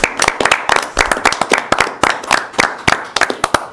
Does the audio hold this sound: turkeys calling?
no